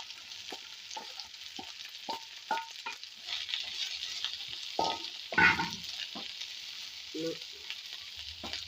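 Chopped okra frying in a pan for an okra buttermilk curry, a steady soft sizzle with occasional stirring scrapes and clatters of a spoon against the pan, close and fairly quiet.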